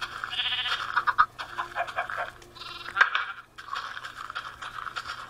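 Sheep bleating among farm animals in a video game, several wavering bleats in quick succession, fairly loud and close with no talking.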